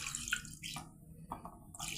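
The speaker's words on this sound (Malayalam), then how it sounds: "ചിക്കൻ വേകാനുള്ള വെള്ളം ഒഴിച്ച് കൊടുക്കാം." Water is poured over chicken pieces in a cooking pot, a quiet, uneven splashing stream with brief gaps, no talking.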